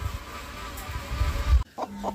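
A domestic hen that has hatched duck eggs clucks and murmurs in short, close bursts over a steady background for most of the clip, then falls briefly quiet before a couple of softer calls.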